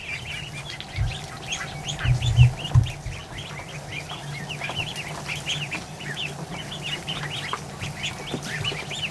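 Ducklings and ducks peep in a steady stream of thin, high chirps, with a few lower quacks and clucks up close early on.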